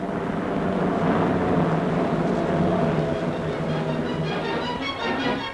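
Four-engine jet aircraft powered by Rolls-Royce Nene turbojets roars past at an airshow, a loud, broad, steady rushing jet noise that holds for several seconds before easing slightly at the end.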